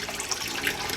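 Tap water runs steadily into a kitchen sink as fish is rinsed, a brief even hiss with no voices.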